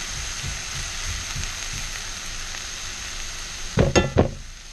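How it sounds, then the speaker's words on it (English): Onions sizzle steadily in a pan, a soft continuous crackle, then near the end a couple of louder scraping clatters as a utensil stirs them around. "Stir our onions around a little bit more."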